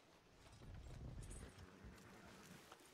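Steady clip-clop of horse hooves trotting close by in the video game Red Dead Redemption 2, a continuous rhythmic clatter over a low rumble, with no talking.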